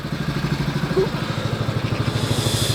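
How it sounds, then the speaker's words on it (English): A small water pump engine idling at a steady, fast chugging rhythm, close by and continuous, with a faint metallic clatter. "that's the pump running. It only needs to be idling."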